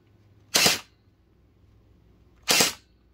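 An HT Mini M4 Raptor gel blaster fires two sharp, close shots at a target, spaced about two seconds apart, with near silence between them.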